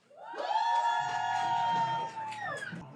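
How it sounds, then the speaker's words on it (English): An audience cheers and whoops for two chefs at a Time Out Market event, a swelling crowd roar with loud sustained yells and a quieter patter of applause underneath, fading slightly toward the end. "please give a huge round of applause to Neha Anand and the legend chef himself"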